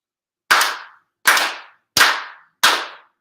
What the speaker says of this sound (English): Shido Haide, 4 sincere claps.